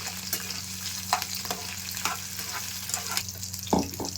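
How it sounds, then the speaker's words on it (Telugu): Peanuts and green chilies sizzle steadily in a hot pan for tomato-peanut chutney, with soft scraping stirs and occasional crackles throughout, close and continuous with no talking. "పల్లీలు కూడా వేగిపోయినాయి పచ్చిమిర్చితో పాటు"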